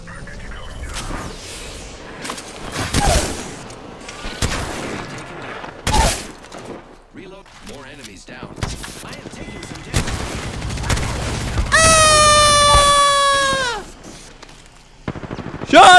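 Chaotic Apex Legends gunfire rattles in bursts and single loud shots, with booms and ability effects, including a rising whistling tone near the end, while a voice talks excitedly over the action.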